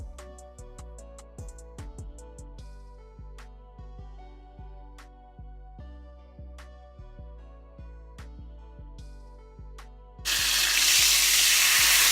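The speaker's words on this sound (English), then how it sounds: "we're going to pour that in the pot with the oil from the burgers that we're cooking" Hot water mixture pours into a pot holding oil from cooking burgers, a loud rushing splash and sizzle bursting in near the end after quieter kitchen clicks and music.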